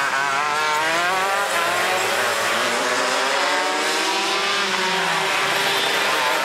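Racing karts scream down the main straight of a raceway in a two-hour enduro, several engines overlapping in a loud, continuous high whine whose pitch sweeps as they pass and shift.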